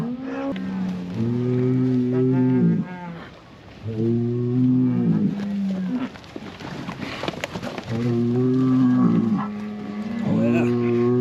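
Bred heifers moo in a pen, loud, long, low calls repeated three or four times in close succession, with other animals and farm noise audible between them.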